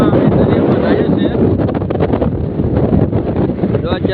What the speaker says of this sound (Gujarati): તો અત્યારે અમારે બોટ ચાલુ છે મિત્ર.